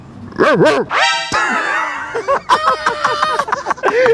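A dog barks and yelps excitedly in quick bursts, close and loud, reacting to a beatbox prank in Turkey, mixed with high whines and some human laughter.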